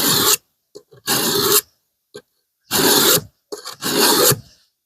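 A knife sharpened on a wet stone, in five distinct rasping strokes with a few quieter scrapes in the pauses between them, close and with no voices.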